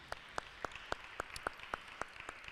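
Slow, evenly spaced claps, about ten sharp strikes in a steady rhythm at moderate distance, from an audience at a town hall meeting on Detroit school closings, with a faint room hum underneath and no talking.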